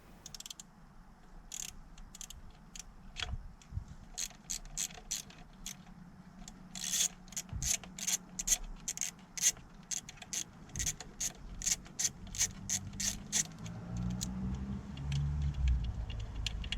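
A ratchet clicks in quick, uneven bursts while unscrewing a nut on a Citroen Saxo engine, sharp close ticks repeating over a quiet background, with a low mechanical rumble rising near the end.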